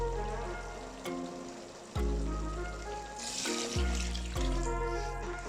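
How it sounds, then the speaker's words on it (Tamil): Water poured into a cooking pot for vegetable biryani with basmati rice, a soft steady splashing pour with a few sharper knocks, fairly quiet and with no voices. "பாஸ்மதி அரிசி எடுத்துக்கிறதுனால 7 கிளாஸ் தண்ணி ஊற்றுறேன்"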